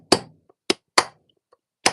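Four sharp, separate hammer strikes on a sharp chisel while carving stone, close and loud with uneven gaps between them, each ringing briefly before dying out.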